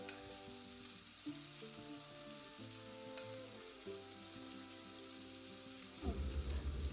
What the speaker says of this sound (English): Also I had kept the fish to fry